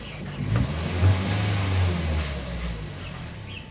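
A Toyota Vios with nearly 500,000 km on the odometer and sluggish, delayed acceleration revs nearby: a steady, loud engine drone with a slight swell and fall in pitch.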